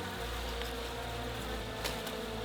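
Angry honeybees swarm and buzz around an opened hive at night, a dense, continuous droning hum filling the air close by, with a few sharper passes of individual bees.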